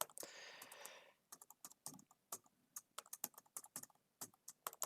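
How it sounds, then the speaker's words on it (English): Rapid clicking of keys on a computer keyboard, close and crisp, in irregular bursts with short pauses, following a brief rustle at the start. "I'm just going to type it out"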